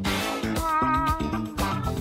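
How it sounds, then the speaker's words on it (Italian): A cat meows repeatedly in a classroom scene, several drawn-out, close, fairly loud calls in quick succession, with no talking over them. "Cos'hai qui? Un gatto?"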